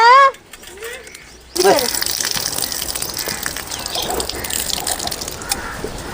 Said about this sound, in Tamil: தம்பி தண்ணி கொண்டாடு தம்பி நல்லா சுத்தமாக அலாசி எடுத்துக்கலாம்